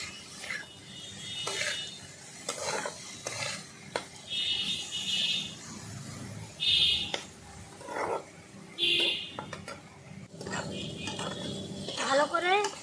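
Spiced taro stems stirred in a pan, with spoon scrapes and clinks against the pan over a low sizzle, a few sharper metallic taps standing out at intervals.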